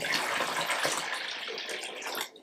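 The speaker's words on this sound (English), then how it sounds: "we're getting some tank water from the tank that you're changing the filter on" Water drawn from an aquarium tank during a Fluval FX4 canister filter cleaning pours in a steady, close gushing stream, then tapers off at the end.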